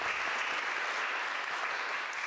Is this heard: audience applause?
yes